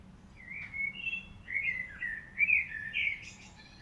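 Delicate bird chirps and tweets in a spatial audio test recording, several short calls in quick succession, fairly faint and set against a low background hum.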